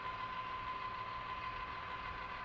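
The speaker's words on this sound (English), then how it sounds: "we've got a train running on our Raspberry Pi SPROG DCC" Model train running on a layout under Raspberry Pi SPROG DCC control: a faint, steady motor whir with a constant high tonal hum, no talking.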